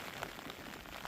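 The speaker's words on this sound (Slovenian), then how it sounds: "Evo, dobo nas je dež." Steady rain falling on a sheep pasture, a dense, even patter of drops on a surface, continuous and fairly close, with no talking.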